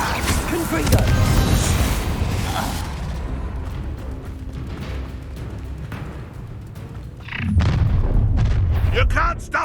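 A Confringo blasting spell explodes in the video game Hogwarts Legacy at Rookwood Castle, a loud booming blast with rumbling tail, followed by a second heavy burst near the end, with voices speaking over it.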